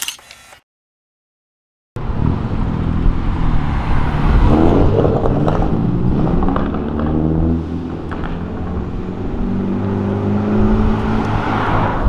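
A Mercedes G63 V8 bi-turbo SUV drives along an avenue, its deep engine rumbling loud and close after a short silent gap, rising and shifting as it revs and moves through traffic.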